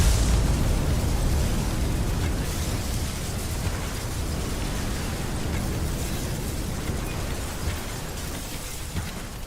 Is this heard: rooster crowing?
no